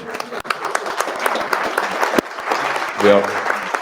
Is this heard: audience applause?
yes